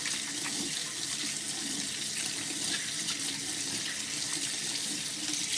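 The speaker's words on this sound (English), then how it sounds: "Let me wash my hands off because we don't want them oily right now" Hands being washed under a running kitchen tap while making a pear crisp dessert, a steady close hiss of water splashing into the sink with no voices.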